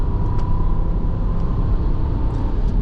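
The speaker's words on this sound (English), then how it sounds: "Right now I'm doing half throttle on purpose just to see how the normal pickup here is" A 2007 Lexus LX470 SUV accelerates at half throttle, its engine a steady, continuous low rumble with road noise from inside the cabin, no talk.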